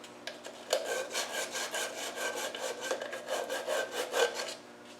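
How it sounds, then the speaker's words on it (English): Abrasive emery cloth rubbed back and forth to strip old silicone sealant from a thermostat housing on a 3.5 V8 NATO 110, giving a steady close scratchy rasping in irregular strokes with no talk. "A bit of emery cloth is good for that."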